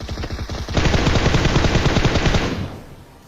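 Rapid automatic gunfire from a PUBG Mobile shooter game sounds as a loud dense burst of shots lasting about two seconds, then quickly fades out.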